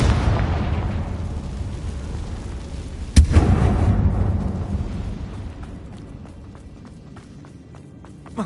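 A Confringo blasting spell bursts in Hogwarts Legacy inside a closed tomb-like chamber, a sharp loud crack followed by a long rumbling roar that slowly fades amid scattered crackles and faint steps.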